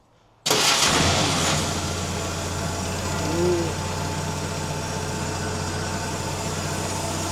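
A 1950 Willys M38 jeep, unused for 15 years and running with choke, cranks and catches abruptly, then settles into a loud, steady, rough idle close by with no talking.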